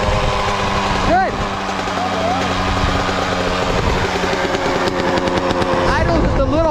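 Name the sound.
Yamaha YZ 125 dirt bike engine idling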